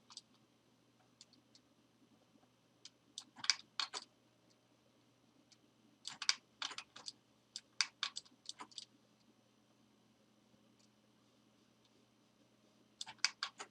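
Computer mouse clicks and keyboard typing in bursts with quiet gaps between, faint, close and dry, no voices.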